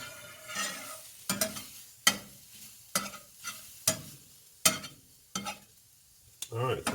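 Eggs being worked in a Blue Diamond pan give off a series of sharp scraping knocks, about eight separate strokes over a soft background sizzle, close and fairly quiet.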